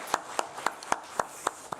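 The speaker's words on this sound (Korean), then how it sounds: "우리 하나님께 감사의 박수 올려드리길 원합니다." Hands clap in a church service, a regular beat of about seven distinct claps at an even, moderate pace, fairly faint and without voices.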